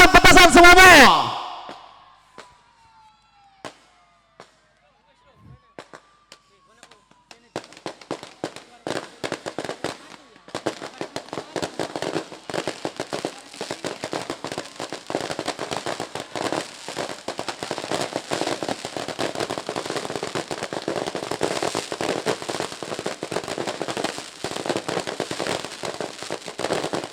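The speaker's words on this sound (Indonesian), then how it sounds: "Nyalakan petasan semuanya." Firecrackers set off together after a countdown at a Takbir Keliling festival in Kedungdawa, Sukra, beginning with a few scattered pops and then a dense, continuous crackling barrage of rapid bangs, loud and sustained, after a brief burst of voices.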